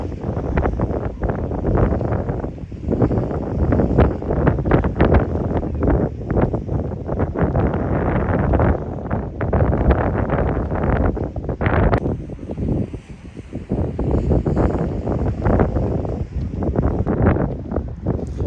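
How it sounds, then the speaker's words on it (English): Strong wind at The Spit, Gold Coast, Australia buffets the microphone in a constant, heavy rumble, gusting and easing slightly but never letting up. "Beautiful weather, so very windy."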